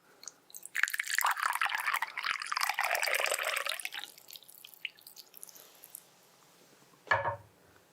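Hot water pours into small Chinese tea cups to preheat them, a close splashing trickle for several seconds that tapers off, followed by a single short splash near the end.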